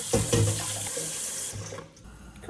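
Tap water runs into a sink over boiled eggs cooling in cold water. The splashing is close and fairly loud for about a second and a half, then cuts off to quiet.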